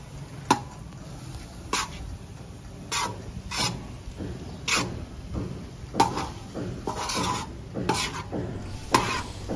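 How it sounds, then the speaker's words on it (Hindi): Minced meat and peas being stirred in a hot tawa, with repeated scraping strokes of a spatula against the metal, close and fairly quiet, a soft sizzle underneath. "अब इसमें मटर शामिल कर लेंगे और इनको अच्छी तरह मिक्स कर लेंगे।"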